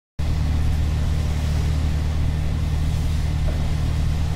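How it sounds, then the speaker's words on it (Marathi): Steady engine drone and road rumble inside an auto-rickshaw on a ride near Lonavala, a continuous loud low hum with wind noise throughout and no talking. "तर मित्रांनो आता आपण रिक्षा पकडलेली आहे आणि आता या रिक्षाने आपण पहिला जाणार आहे आपल्या पहिल्या स्पॉटला"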